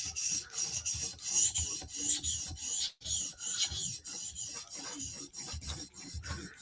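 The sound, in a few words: knife blade sharpened on 400 grit CBN stone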